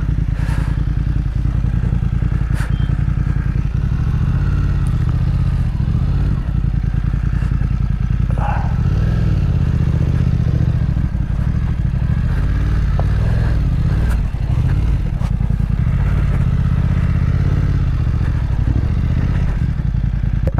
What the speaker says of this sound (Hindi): वहाँ पर बाइक लगाना ज़्यादा अच्छा रहेगा, तो यहाँ से घुमा के चलते हैं वहाँ पर।